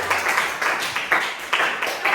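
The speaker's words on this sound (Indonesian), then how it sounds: "tepuk tangan untuk kelompok 1." In a classroom, a group of students applauds after a group finishes presenting. The close, lively clapping comes in uneven rhythmic waves.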